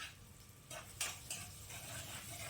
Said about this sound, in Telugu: వేసుకొని బాగా వేయించుకోవాలి.